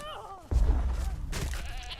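Goats bleat in the video game Conan Exiles: a wavering bleat at the start, then a loud thump and a second bleat, with game noise around them.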